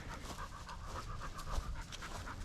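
A dog pants in steady, quick rhythmic breaths close by outdoors in a park near a lake, with low wind rumble underneath and no one talking.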